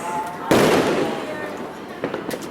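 At a New Year celebration, fireworks go off in one sharp, loud burst followed by a long crackling decay, then a few smaller pops fainter in the distance, with voices nearby.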